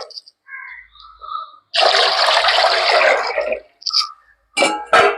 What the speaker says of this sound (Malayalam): ഒരു ബോണി പച്ചവെള്ളം കൂടെ ഇതിലേക്ക് ഒഴിക്കണം.